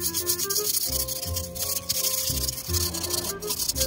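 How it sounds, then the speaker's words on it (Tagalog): Rhythmic rubbing strokes of sandpaper on a brake rotor, a steady back-and-forth scraping repeated several times over a background hum. "Saka po natin pupunasan uli ng liha."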